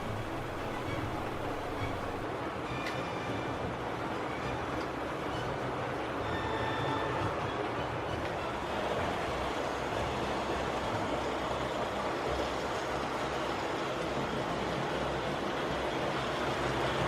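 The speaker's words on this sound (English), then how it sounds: "both locos are more than happy with their trains. They run smoothly" Hornby and DJM Class 71 model locomotives run smoothly with their trains, giving a steady, continuous low rumble and whirr that stays even throughout, with no talking.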